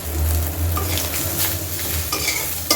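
Small fish fry in a pan with a loud, dense sizzle while a utensil stirs them, scraping and tapping near the end.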